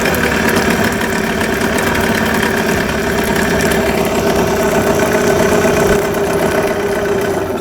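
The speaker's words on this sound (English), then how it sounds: "Here I'm going to shut the motor off and turn it back on." A Yamaha 9.9hp outboard motor runs steadily with a loud, even mid-pitched drone and a slight knocking texture, close by, with no talking.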